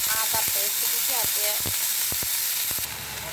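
Ginger paste hits a pan of frying chilies and onions, giving a steady close sizzle with a few sharp clinks and scrapes of a utensil against the pan.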